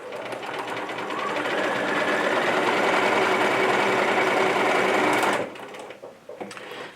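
A sewing machine stitches a small wallet or wristlet, running steadily and loud for about five seconds at close range, then stopping abruptly.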